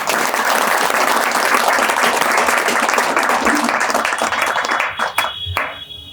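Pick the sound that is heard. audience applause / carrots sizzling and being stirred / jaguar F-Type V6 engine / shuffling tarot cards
audience applause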